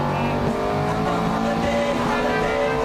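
Ferrari 430 engine holds a loud, sustained roar while sliding sideways on a test track, the tone wavering slightly with faint tyre noise underneath.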